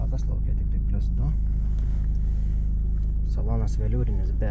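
A 2018 BMW F31 LCI 318d diesel engine running cold, with a constant low rumble throughout and someone talking over it.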